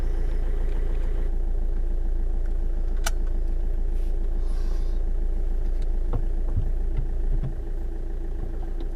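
A car driving around the small town of Loch Sport, a steady interior engine drone with road rumble throughout, a brief sharp click partway through, and the engine note easing slightly near the end, with no talking.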